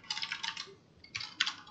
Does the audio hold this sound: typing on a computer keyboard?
yes